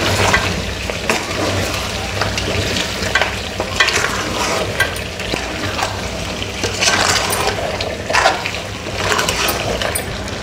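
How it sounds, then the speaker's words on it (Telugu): Spiced chicken pieces are stirred in a hot frying pan, with a continuous sizzle and repeated scraping and clinking of the spatula against the pan, close and fairly loud. "ఇప్పుడు ఇవన్నీ చికెన్ ముక్కలకి పట్టేలాగా బాగా కలుపుకోవాలి."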